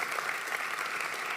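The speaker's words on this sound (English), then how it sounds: "A warm applause for Berni Good," A conference audience at a keynote applauds with dense, even clapping that stays steady and fairly soft through the whole short stretch.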